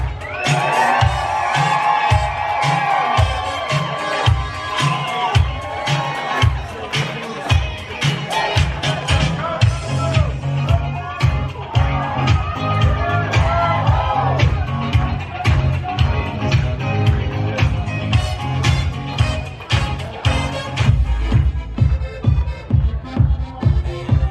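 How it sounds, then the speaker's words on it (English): Wedding reception guests clap and cheer as the groom's parents are welcomed in, their crowd noise running under loud dance music with a heavy, steady beat throughout. "Keep those hands clapping."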